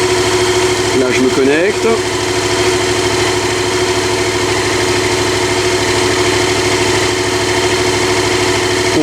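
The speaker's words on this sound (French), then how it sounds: "On démarre. Ça démarre du premier coup." Yamaha MT-07 motorcycle engine idling steadily after a cold start at 9 degrees, a loud continuous mid-pitched hum throughout, with someone talking briefly over it near the start.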